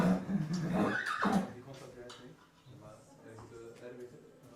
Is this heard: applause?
no